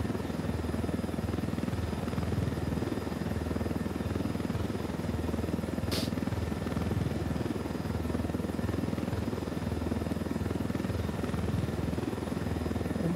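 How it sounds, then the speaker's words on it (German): A helicopter in the video game Ghost Recon Wildlands drones steadily with a constant low rotor thrum and engine whine, loud and unbroken throughout, with one brief high click near the middle and no talking. "Der Heli schon nicht schlecht."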